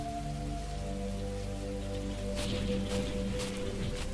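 Stormy rain pouring steadily, a broad hiss of falling water under a sustained low droning music bed, with a few louder splashy bursts near the end and no talking.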